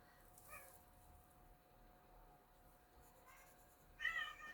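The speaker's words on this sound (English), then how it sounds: "That's my kitty cat." A cat gives a few soft, short meows in a quiet room, ending with a slightly louder cry.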